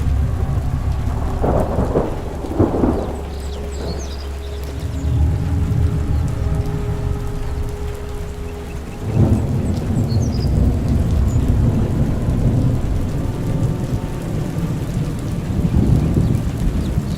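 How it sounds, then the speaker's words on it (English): Loud thunder booms over steady rainfall. Two heavy rumbles come close together early on, another roll breaks in midway, and the rain keeps up a constant hiss throughout. "it rose out of the clouds with the loud sound of thunder"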